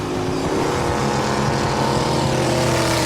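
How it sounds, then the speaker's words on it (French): Loud, continuous engine roar of a jet boat, a steady droning motor with a harsh rushing hiss running throughout. "Il fait chauffer son moteur et se prépare pour la grande épreuve."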